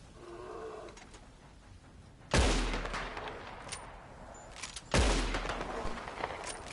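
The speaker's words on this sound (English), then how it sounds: "Just keep shooting him." Gunfire in Red Dead Redemption 2 as a man is shot repeatedly: two loud, sharp reports a few seconds apart, each with a long echoing decay over a quiet outdoor background.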